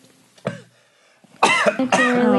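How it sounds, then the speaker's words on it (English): A short cough, then a burst of harsh, loud coughing that fills the second half, close to the listener. "stop with the coughing"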